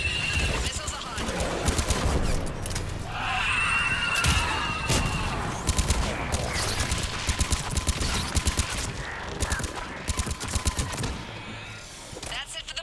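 Missile and gunfire barrage in a Mass Effect 3 battle: dense, continuous rapid bursts and blasts mixed with loud, busy game sound effects, with a voice speaking partway through.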